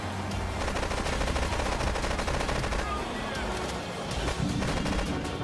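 In GTA III Definitive Edition, an AK rifle fires nonstop during a rampage against Mafia members, a loud, rapid, unbroken stream of shots layered with in-game clatter.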